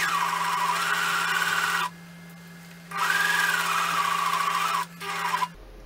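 A sewing machine stitching a cushion cover whirs in two long runs separated by a pause, then gives a short final burst, with a steady close motor tone and no talk.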